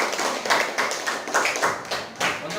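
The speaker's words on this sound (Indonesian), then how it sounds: "beri aplaus buat teman kalian" A group of sixth-grade classmates applauding after a class presentation, giving irregular, moderately loud bursts of claps close by, with no talk over them.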